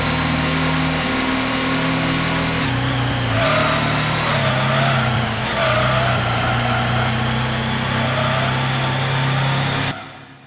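A racing car engine in a Gran Turismo demo drones loud and steady, its pitch stepping up and down through gear changes before cutting off abruptly near the end.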